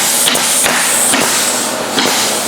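Repeated hammer strikes fastening new wooden roof decking on a 2009 Keystone Sprinter camper, a handful of sharp, close blows spaced unevenly over steady background noise.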